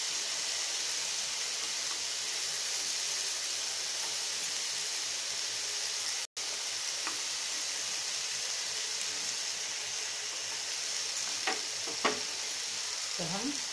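Onion and capsicum sizzle on a hot grill pan beside tandoori chicken, giving a loud, steady, close frying hiss with a few faint clinks near the end and no talking.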